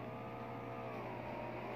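A motorcycle engine drones steadily in PUBG Mobile, a continuous mid-loud motor tone with slight pitch shifts as it rides along, with no voices over it.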